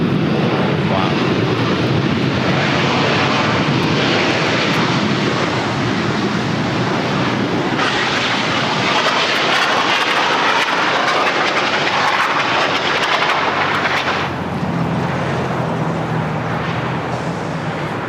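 An airliner touching down on the runway at LAX, a loud, sustained roaring rush of engine and wind noise that shifts in tone partway through and eases near the end as the aircraft slows.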